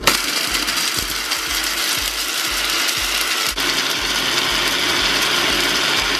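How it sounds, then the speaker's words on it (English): Meal ingredients are ground in a grinder with a loud, steady, rhythmic mechanical rattling and grinding that runs throughout, up close and with no voices. "the next step is to grind all these ingredients you see in front of you"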